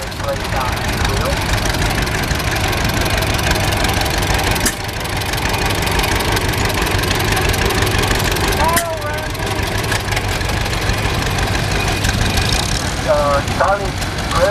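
A 1952 John Deere antique tractor engine runs steadily in a parade, a loud continuous knocking drone with someone talking over it throughout.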